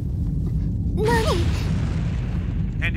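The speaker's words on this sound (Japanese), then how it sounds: "今の爆発は？" An explosion in the anime Gunslinger Girl: a deep rumble runs throughout, with a sharp burst near the middle and a brief voiced cry over it.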